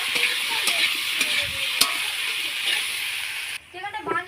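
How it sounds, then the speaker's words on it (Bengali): Chilli powder, turmeric and salt frying in a pan while being stirred, a close hissing sizzle broken by a few sharp utensil clicks, then it cuts to a quieter moment where a voice can be heard. "ভালো করে নাড়াচাড়া করে নিলাম।"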